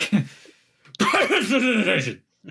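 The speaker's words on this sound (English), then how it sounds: "Excuse me, I had a cough." A brief cough at the start, then a longer harsh coughing or throat-clearing burst, close and loud, ending with a short vocal sound.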